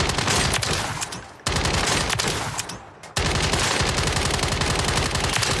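Tempest GH50 firing in a video game: sustained rapid automatic bursts, loud and close, broken by two short pauses before resuming.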